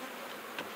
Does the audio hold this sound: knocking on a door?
no